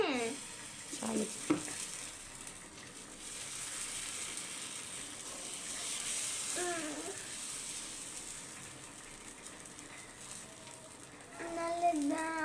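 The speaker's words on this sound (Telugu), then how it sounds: "ముందు ఆయిల్ వేసుకున్నాము, మళ్ళీ దోశ పిండి తీసుకొని" Dosa batter frying in oil on a hot pan makes a steady, close hissing sizzle that runs throughout, with brief scraping and stirring noises and a few short voice-like sounds over it.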